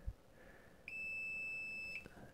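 A Fluke or Sperry voltage tester pen lets out one steady, high electronic beep lasting about a second, clear and close against a quiet room.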